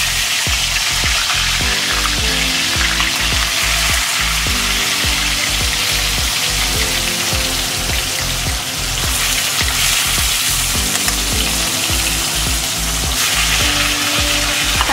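Pieces of katla fish fry skin side down in hot oil, giving a loud, steady sizzle that runs the whole time with no talking, over a rhythmic low thumping in the background.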